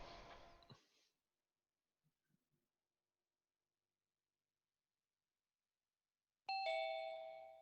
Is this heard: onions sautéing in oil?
no